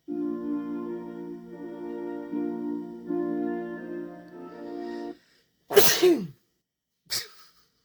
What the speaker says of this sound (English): Pardon my sneeze there.